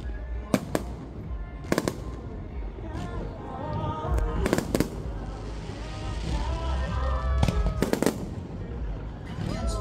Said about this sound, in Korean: 갑자기 축제 현장 불꽃놀이 같이 감상하실래요?